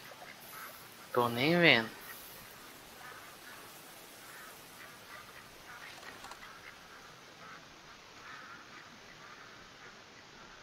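Ducks in the hunting game theHunter: Call of the Wild give one short, loud burst of quacking early on, then a long stretch of quiet outdoor ambience with a person speaking briefly.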